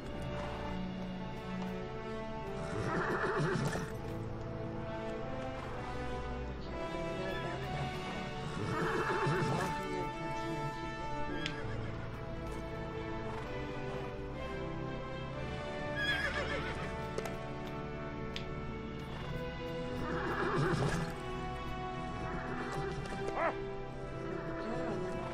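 In the LEGO Lord of the Rings video game, a horse neighs and whinnies several times over rhythmic clip-clopping hooves, set against a continuous musical game soundtrack.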